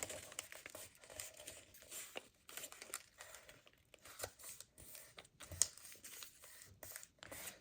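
Paper folded by hand for a craft project, with soft crinkling, creasing and rustling in irregular bursts, close but quiet, with no talking.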